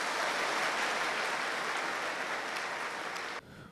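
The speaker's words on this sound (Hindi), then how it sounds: "एक बार आप तालियां बजा करके इनका स्वागत करें।" An audience in the school auditorium of Vande Mataram Academy in Pali claps to welcome a guest. The applause is dense and steady, tapers slightly, then stops abruptly near the end.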